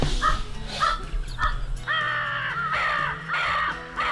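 Several crows caw in a crow-hunting field, harsh repeated calls of varying distance, some nearer and louder, others fainter, with low rumbling handling noise beneath.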